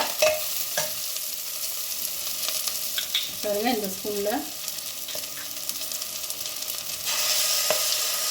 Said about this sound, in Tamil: இது ஒரு 2 நிமிஷம் பச்சை வாடை போகிற வரைக்கும் நல்லா வதக்கிக்கலாம்